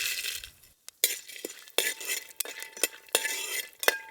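Cashews, almonds and pumpkin seeds stir-roasting in a spoonful of ghee give a sizzling hiss broken by a series of sharp spoon clinks and scrapes against the pan, close and fairly loud, with no talking.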